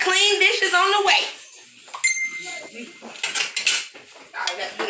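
Dishes, pots and cutlery clink and clatter in a kitchen while several voices talk loudly over the sharp metallic rattles.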